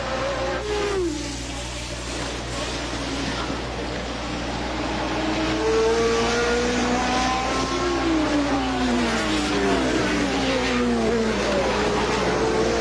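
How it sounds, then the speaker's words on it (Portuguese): Formula 1 cars race at the 1981 German Grand Prix, engines screaming past with rising and falling pitch sweeps as several cars pass in turn over a steady broadcast background hum, with a commentator's voice underneath. "Uma ultrapassagem sobre o Andretti"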